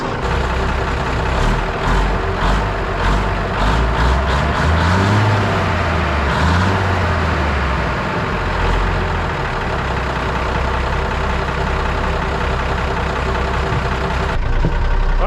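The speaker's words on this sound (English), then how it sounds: "rev it a couple times, see if the clutch breaks for it loose." A wrecker truck's engine idles loudly up close, then revs up twice in rising and falling sweeps while a seized clutch is worked loose, and settles back to a steady rumble with some metallic clicks.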